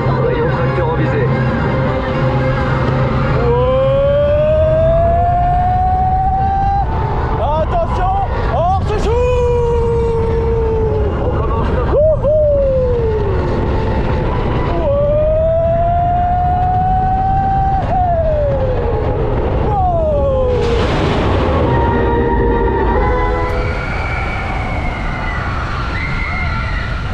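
Space Mountain roller coaster at Disneyland Paris, a dark indoor ride with a loud continuous rumble of the train on its track, overlaid by rising and falling electronic sci-fi sound effects and soundtrack tones throughout.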